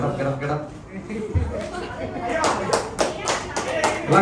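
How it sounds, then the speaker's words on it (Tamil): Audience at a debate on whether today's parents are the best, with chatter and murmuring first and then a burst of scattered clapping in the second half. "நிவ்யாக்கு நல்ல கரகோஷத்தை எழுப்புங்க."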